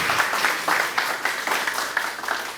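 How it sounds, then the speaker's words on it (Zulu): An audience claps at a poetry reading in tribute to Zulu poet Dr B.W. Vilakazi, producing steady, even hand applause that fills the room at moderate loudness throughout. "shaya ihlombe"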